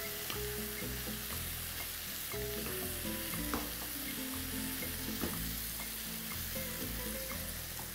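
Small pieces of meat shawarma frying in a pot, a continuous busy sizzle with clinks and scrapes of stirring throughout, no voices.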